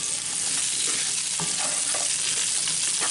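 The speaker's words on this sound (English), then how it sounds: "Stir them around a little bit" Carrots, parsnips and turnips stirred with a little olive oil in a Dutch oven, giving a steady close scraping and sizzling hiss that runs continuously with small clicks of the utensil.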